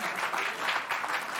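A studio audience applauding, a brief dense wash of clapping at moderate volume, steady throughout without voices.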